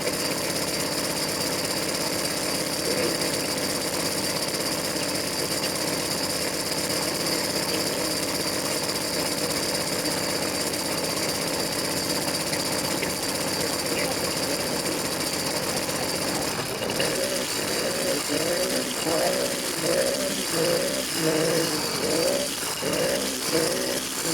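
A choked 100cc engine on a bike struggles to idle, droning roughly up close, then stumbling into an uneven, lumpy, pulsing run in the last seconds as it nearly stalls.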